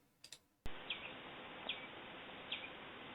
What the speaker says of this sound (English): That is a bird. Like, it's like a house finch chirping or something.